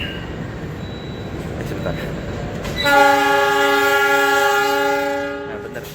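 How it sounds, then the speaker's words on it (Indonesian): The Ranggajati passenger train departs an Indonesian station with a long, loud, multi-tone horn blast that starts about halfway through, rising over station ambience and a brief spoken word before fading slightly. "Dan ini kereta api Ranggajati berangkat."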